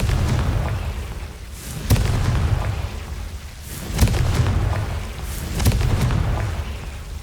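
Confringo fire spell in the Hogwarts Legacy video game goes off as three sharp, booming blasts a couple of seconds apart, each followed by a rumbling roar that fades before the next.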